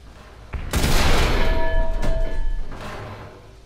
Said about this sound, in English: Someone's shooting at me from the other side